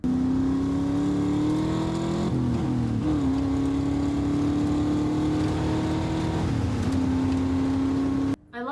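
A car being driven in a scene from the series The Gentlemen: a steady engine tone rising and shifting pitch as it revs and changes gear, sustained and fairly loud before cutting off abruptly near the end.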